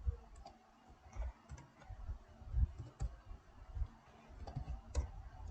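Computer keyboard typing: a quiet run of irregular key clicks and taps, fairly close, with no talking over it.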